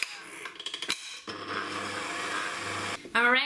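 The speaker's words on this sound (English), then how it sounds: "And whisk." Strawberry meringue is whisked in a bowl, starting with a few light taps and clinks, then a steady whirring rush that holds for a couple of seconds before stopping abruptly.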